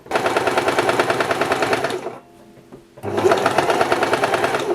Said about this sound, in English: you line them up together under the machine, clamp it down,